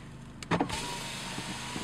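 An Audi A4's electric window motor whirs briefly, then a steady low cabin hum continues underneath, fairly quiet and close.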